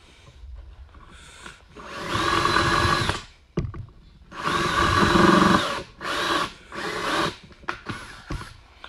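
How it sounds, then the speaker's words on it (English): A power drill bores into wood for a craft table build in bursts: two long runs of whirring with the pitch wavering under load, then shorter spurts and brief stops, close and fairly loud indoors. "Let me drill another hole."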